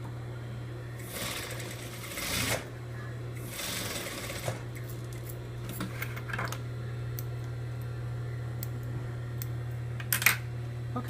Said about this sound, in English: Going to edge stitch that.